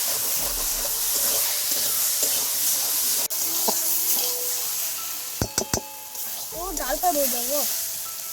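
Masala for a chicken curry being stirred and fried in a pan over a clay wood-fired stove in a village home, with a low steady sizzle, a few sharp clanks of the spatula against the pan and brief talk in the background.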